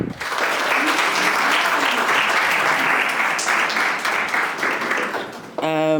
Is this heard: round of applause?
yes